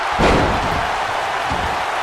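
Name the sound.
wrestling powerbomb slam in WWE 2K19 video game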